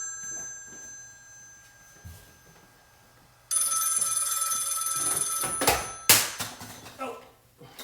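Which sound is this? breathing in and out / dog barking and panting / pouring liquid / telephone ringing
telephone ringing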